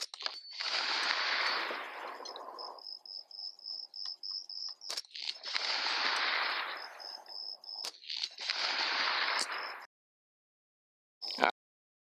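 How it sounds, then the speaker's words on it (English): Rifle shots fired at a steel plate rack outdoors: a few sharp reports with ringing metallic hits, a high steady tone running between the bursts, then quiet with one last short crack near the end. "let's take a couple shots at our plate rack"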